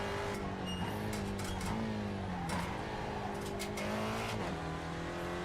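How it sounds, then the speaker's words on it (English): A Mazda MX-5 racing through the corners at Summit Point, its engine droning steadily and shifting in pitch as it slows and accelerates, with faint tire noise, loud and continuous with no talking. "Definitely kind of difficult to take the car around these corners"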